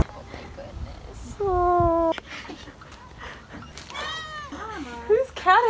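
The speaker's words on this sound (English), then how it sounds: "Whose cat is that?" A cat meows several times up close in a vlog, with drawn-out, rising and falling calls. People talk and react around it.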